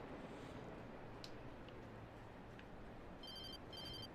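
A phone rings in the video game Alan Wake Remastered: two short electronic ring bursts near the end, over a dark, low ambient rumble, with no talk.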